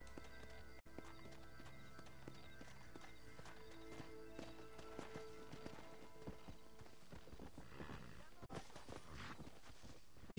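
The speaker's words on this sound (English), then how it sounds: "Is that man leading his horse or was he dragging?" A man leads a horse, its hooves clip-clopping in an irregular walking rhythm amid busy layered background sound and music, with voices speaking over parts of it.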